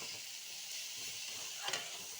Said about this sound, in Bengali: কষিয়ে নিয়েছি, নিয়ে এবার একটু জল দিয়ে দিয়েছি